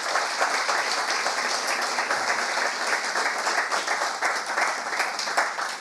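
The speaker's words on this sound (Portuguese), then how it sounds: "Aplaude ao Senhor, meu irmão." A church congregation applauds during an evening sermon, a dense, steady wash of many hands clapping together that fills the room at full strength throughout, with no voice over it.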